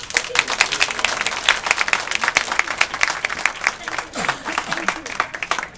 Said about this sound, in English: A big round of applause for Cinta.